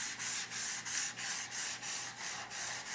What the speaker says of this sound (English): just want to take some 80 grit and sand every inch of the table